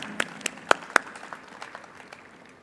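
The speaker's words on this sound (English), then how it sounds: "just an applause" A handful of scattered handclaps from an audience at a conference closing ceremony, four sharp claps close together near the start, then thinning to faint, sparse patter.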